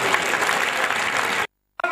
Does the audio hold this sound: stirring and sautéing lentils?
no